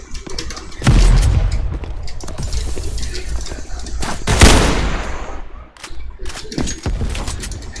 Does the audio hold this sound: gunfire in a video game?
yes